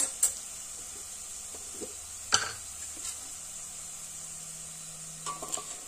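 Onions frying in a pan for aloo matar, a soft steady sizzle broken by a few scraping stirs and clinks of a utensil against the pan.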